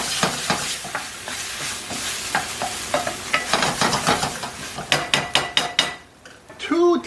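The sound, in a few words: stirring and mixing seasoned food in a pan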